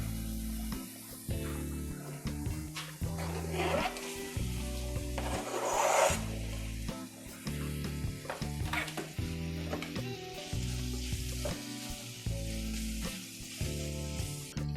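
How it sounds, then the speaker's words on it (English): Sausage sizzling in a pan with sautéed vegetables for seafood grits, a crackling frying hiss with scraping and stirring rubs over a low hum, fairly close and without talk. "now I'm gonna throw my sausage in there"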